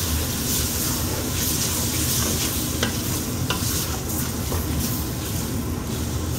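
Green onion bottoms simmer and sizzle in about six cups of stock in a pan for crawfish étouffée bisque, a steady dense bubbling hiss throughout with a few faint clicks of a utensil, no talking.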